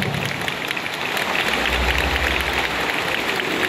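Applause from a congregation at a Christmas celebration in a church: steady, even clapping throughout, moderately loud with a crowd-like wash and no clear voices.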